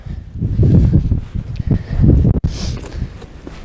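Wind gusting across an exposed Colorado mountain ridge on a clear day, a loud, steady low rumble buffeting close by with bursts and rustle, briefly cutting out once.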